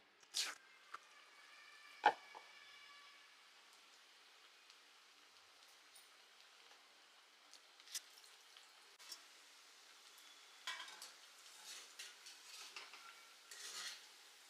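Onion bhaji fritters slipping into hot frying oil for crispy kanda bhaji, with a quiet, steady crackle of frying under a few sharp clinks and drops, growing busier and fizzier toward the end.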